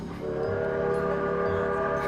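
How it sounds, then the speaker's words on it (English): A train rumbles past near an old gold mine in Nevada, its loud, steady drone with sustained horn-like tones filling the whole stretch, with no talk over it. "Fucking trains, people, fucking trains."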